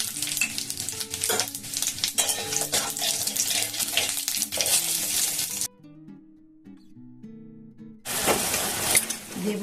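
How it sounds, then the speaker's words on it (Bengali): Dried chillies, bay leaves, five-spice and radhuni crackle and sizzle in hot oil for a Bengali shukto, a loud steady frying hiss that breaks off briefly, then returns. "শুক্তোতে আমি ফোড়ন দেব। দেখুন 2টো শুকনো লঙ্কা, 2টো তেজপাতা, একটু 5 ফোড়ন, আর এখানে রাঁধুনি।"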